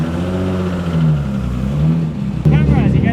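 A rotary race car engine rumbles at idle, then revs sharply near the end, loud and close, with voices faintly in the background.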